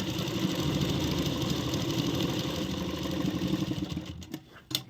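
A sewing machine stitches a kurti neckline in a steady whirring run, close and fairly loud, then it slows into a few uneven bursts and stops near the end.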